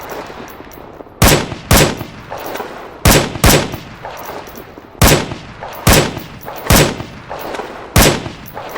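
A video game gun fires in single-shot mode: about nine separate sharp, loud shots at uneven intervals, each a distinct crack with a short ringing tail and quiet gaps between.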